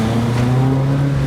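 A small gymkhana car's engine holds a loud, steady high rev, a close droning buzz with no pauses.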